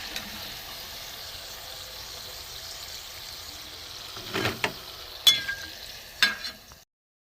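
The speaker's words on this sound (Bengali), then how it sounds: "এগুলোও লাল হয়ে গেছে, ভেজে গেছে বন্ধুরা, ভাজা হয়ে গেছে" Aparajita pitha fry in oil in a kitchen pan, a faint steady sizzle with a few sharp utensil scrapes and clinks toward the end before it cuts to silence.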